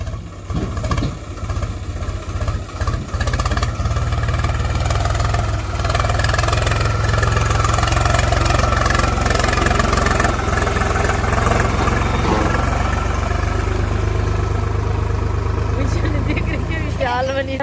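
A tractor engine runs on a road, a loud steady idling rumble that holds for the whole stretch after some rough, uneven revving at the start, with someone talking over it.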